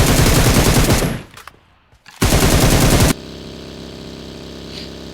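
Rapid bursts of video game automatic gunfire, loud and close, cut by a brief near-silent pause, then more gunfire before dropping to a low steady hum.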